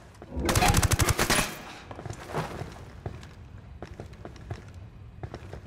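Rapid automatic gunfire rattles loudly for about a second in Ghost Recon Wildlands, followed by scattered single shots and quieter clicks and footsteps.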